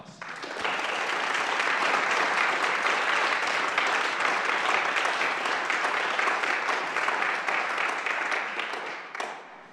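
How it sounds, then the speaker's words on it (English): A lecture audience breaks into sustained applause for nearly ten seconds, the dense clapping holding steady before tapering off abruptly at the end, with no talking over it. "Please join me in giving them a round of applause."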